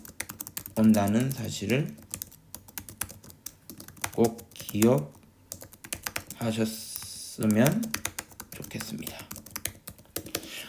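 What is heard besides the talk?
typing on a computer keyboard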